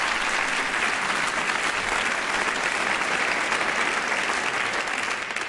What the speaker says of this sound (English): let's give Kai Thomas a massive round of applause